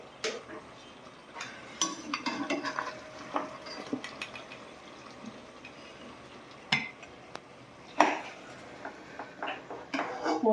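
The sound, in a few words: lifting cooked meat out of spice masala in a pot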